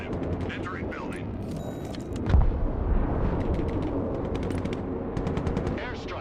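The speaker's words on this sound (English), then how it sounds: "Airstrike is go for effect." Airstrike in the military strategy game Broken Arrow: rapid machine-gun bursts rattle on, then a heavy explosion thuds in and rumbles, with more gunfire and voices talking over the battle.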